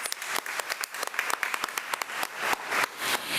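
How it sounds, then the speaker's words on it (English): A small audience at a school board meeting claps for a teacher, with sparse, distinct hand claps close by that thicken into a fuller round toward the end. "please give her a round of applause"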